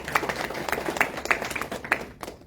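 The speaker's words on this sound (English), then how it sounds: "give him a round of applause" Scattered applause from a small audience at a Bhagavad Gita class, a few distinct claps standing out over a soft, thin patter, fairly quiet and brief.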